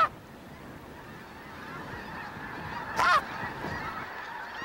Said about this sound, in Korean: 흰기러기 무리가 곧 대륙을 가로지르는 장대한 여정에 오를 것입니다.